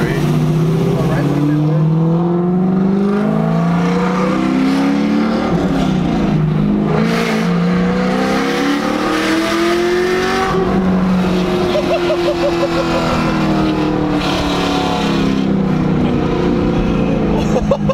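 A modified Ford Mustang accelerates hard from inside, its loud engine note sweeping up repeatedly through gears with brief dips at each shift, while occupants talk over the roar.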